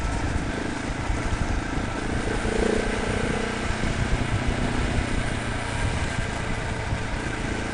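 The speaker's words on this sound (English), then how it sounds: "I'm on the 2017 Husqvarna 701" 2017 Husqvarna 701 motorcycle ridden over a rocky trail, its engine a continuous close rumble mixed with gusty wind buffeting and rough, uneven bumps throughout.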